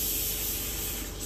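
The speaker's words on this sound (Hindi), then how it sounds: "सीटियां आन डियां ने दाल नू गाइज।" A pressure cooker cooking dal blows off steam in one loud, continuous hiss that runs unbroken and close for just over a second.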